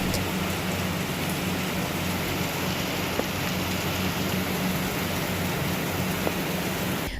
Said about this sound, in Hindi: बहुत अच्छी बारिश हो रही थी